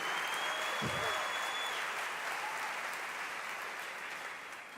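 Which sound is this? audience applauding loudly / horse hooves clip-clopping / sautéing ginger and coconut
audience applauding loudly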